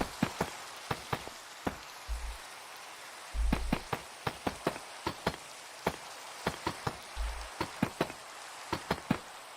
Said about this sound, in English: I listen to rain sounds